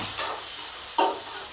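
Onions, green chillies and curry leaves sauté in a pan for a chicken curry, a soft continuous sizzle with two brief stirring scrapes, close by and with no speech.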